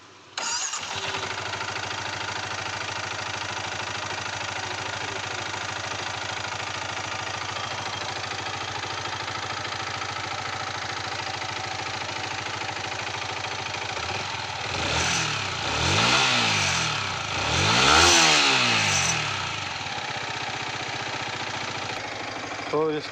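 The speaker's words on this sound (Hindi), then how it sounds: "इंजन साउंड का प्रॉब्लम है।" A Yamaha R15 V3 motorcycle with an engine sound fault idles steadily and loudly for the whole stretch, then is revved twice near the end with rising and falling swells.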